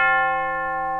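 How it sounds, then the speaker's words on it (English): A single tubular bell chime struck with a large mallet rings out clear and metallic, its bright overtones decaying slowly over the short clip. "Not to be confused with wind chimes, these are also known as tubular bells."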